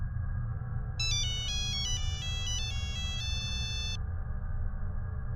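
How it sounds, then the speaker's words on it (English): An electronic phone ringtone chirps in a quick repeating melody for about three seconds over a constant low rumble, then stops. "when the phone rang again"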